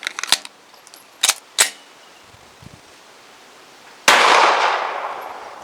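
An FN 509 CC Edge pistol firing outdoors: three sharp, separate cracks spaced over a second or so, then a louder report that rings out with a long, slowly fading tail.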